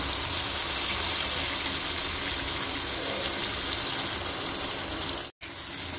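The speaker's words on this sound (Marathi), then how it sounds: "यामध्ये आपण मटणाचं पाणी टाकणार आहोत," Cooked mutton stock poured into a pan of sautéed masala for dry mutton sukka, a loud continuous gushing splash that cuts off abruptly near the end.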